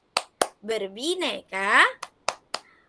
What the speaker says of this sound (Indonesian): punya tepuk-tepuk baru nih anak-anak. Namanya tepuk pelajar Pancasila.